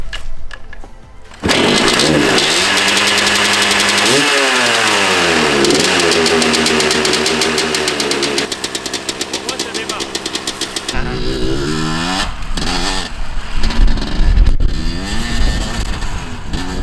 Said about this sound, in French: Quel kiff de remonter sur une motocross, ça faisait plus de 10 ans que ça ne m'était pas arrivé.